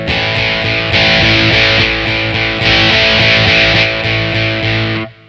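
Electric guitar played through a Behringer V-Amp 3 on a distortion setting, loud sustained chords strummed in steady rhythm that ring out alone and cut off at the end.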